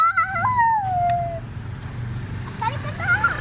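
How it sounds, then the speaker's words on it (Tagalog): A small stray puppy howls and whimpers close by, a thin rising and falling cry that fades out, then resumes in short yelps near the end over low background noise and faint voices. "May aso kaming nakita guys."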